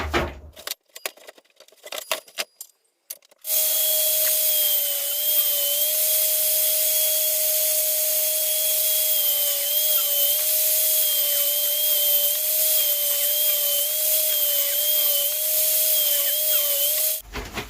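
A power saw cuts 7mm thick scrap-wood strips down to 18mm, with a few seconds of clatter and knocks before a loud, steady high whine runs for about fourteen seconds and then stops.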